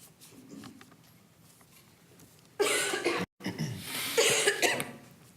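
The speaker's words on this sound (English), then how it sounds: "I didn't want to cough on everybody. I got a terrible cold." A person with a bad cold coughing in a public meeting room, a couple of harsh, rough bursts close by, preceded by quieter rustling.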